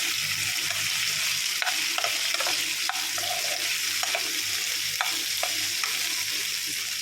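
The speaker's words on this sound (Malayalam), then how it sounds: "സബോള ഒന്ന് പച്ചമണം മാറത്തക്ക രീതിയിൽ ഒന്ന് ഇറക്കി കൊടുക്കാം" Sliced onions sautéing in a pan for a chicken curry made with jackfruit seeds: a steady, close sizzle throughout with light intermittent taps and scrapes of stirring.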